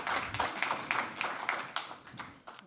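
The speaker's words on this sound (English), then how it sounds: "Applause for Valeria." An audience claps for Valeria Posada Vilada at a Fotokroniek photography talk at Foam, with a quick run of sharp, fairly close handclaps that soon thin out.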